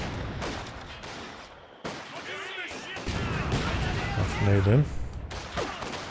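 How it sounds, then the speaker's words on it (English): Mortar shells land in a Company of Heroes 2 battle, sending dull booming impacts and rumbling explosions through the scene as a commentator talks over them. "Mortar pit narrowly missing those 2 shells"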